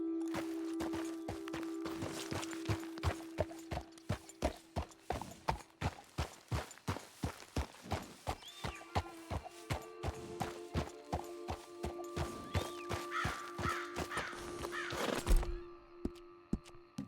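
Horse hooves clip-clop steadily in Red Dead Redemption 2, a long run of evenly spaced thuds that speeds into a brisker gait, close and clear, with faint crow caws and a low background drone.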